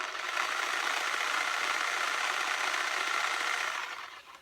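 A reciprocating saw runs steadily at its slowest speed setting, a continuous close motor buzz and whir with no cutting strokes, then winding down at the end.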